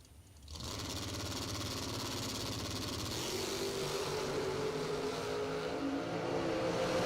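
Drag-racing cars, including a Corvette Roadster in the right lane, launch at a Fuel Tech $50K event with a sudden loud engine roar that holds steady and strains as it climbs in pitch, with no one talking over it.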